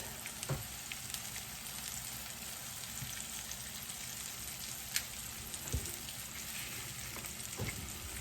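Chicken pieces fry in a pan for a fried chicken dinner, a soft, continuous crackling sizzle with occasional faint pops, fairly quiet and steady throughout.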